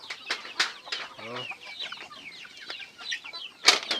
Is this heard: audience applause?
no